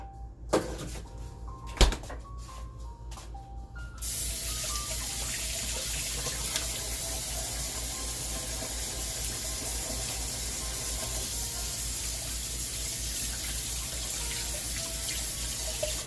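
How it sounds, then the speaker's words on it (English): Running tap water pours into a sink for hand washing in a home kitchen during lunch cooking, a steady broadband hiss that starts abruptly after a few seconds of quieter room sound with a couple of clunks, then continues unbroken. "I'm gonna wash my hands now."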